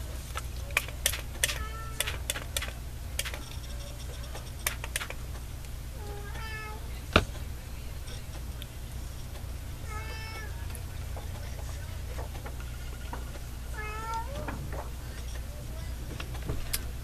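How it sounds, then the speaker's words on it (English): A female cat meows three times in the background, spaced a few seconds apart, over a quiet room hum and scattered sharp clicks. "This is again my female cat that you're hearing in the background."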